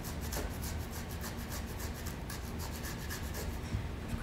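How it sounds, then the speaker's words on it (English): Fresh ginger is rubbed across a grater into a bowl, making quiet, rapid scraping strokes in an even rhythm close by. "Grate this right into my bowl. About a half teaspoon of the ginger."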